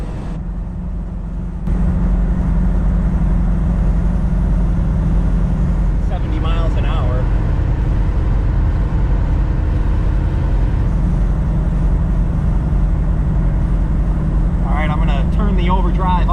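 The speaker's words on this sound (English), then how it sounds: "The car now cruises very comfortably on the freeway." A 1971 Ford Torino with a Gear Vendors overdrive cruises steadily on the freeway, its low engine drone and road rumble constant and loud throughout, with brief bursts of talk over it in places.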